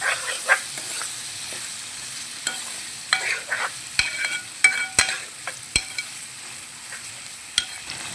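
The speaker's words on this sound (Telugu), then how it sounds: "ఇప్పుడు కరివేపాకు కొంచెం కొత్తిమీర కొంచెం ఒకసారి తిప్పుకుందాం" A spoon stirs curry leaves and coriander into simmering Andhra-style sambar, producing irregular metallic scrapes and clinks against the pot over a soft bubbling hiss.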